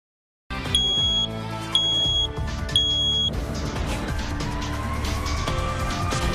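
A smoke detector sounds shrill, piercing beeps in three bursts, followed by a sustained tone, loud and close, with no voices.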